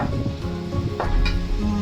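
Spices frying in mustard oil for a raw mango pickle, a close continuous sizzle with a few quick stirring scrapes and a brief knock of the spoon against the pan.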